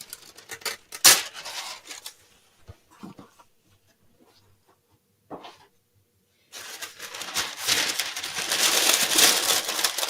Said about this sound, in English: I am crumpling up the parchment paper